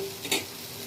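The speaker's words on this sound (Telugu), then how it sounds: "నేనైతే ఈ చోలే శనగలు నానబెట్టి ఉడకపెట్టి తాలింపు వేస్తున్నాను" Soaked, boiled chole chickpeas tempering in a hot pan give a brief soft sizzle with one quick stirring scrape, close and quiet.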